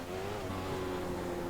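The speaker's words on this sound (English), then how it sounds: "I feel like I'm over-revving the engine." A 2015 McLaren Honda Formula One engine in iRacing, held at high revs: a steady, strained whine with a continuous drone, fairly quiet and unbroken throughout.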